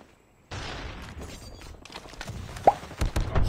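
Sniper rifle shots in Call of Duty Mobile, a few sharp, isolated reports cracking out at irregular intervals over quiet battlefield ambience.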